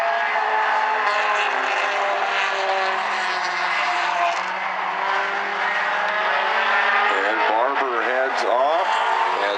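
Outlaw compact race cars racing at South Sound Speedway, a continuous loud engine drone from several cars circling the track, under a race announcer's commentary through the speakers.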